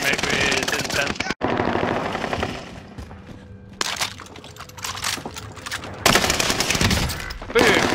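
Rapid machine-gun bursts from a first-person shooter game fire repeatedly across the clip, loud and close, broken by brief pauses and sharper blasts, with occasional background chatter.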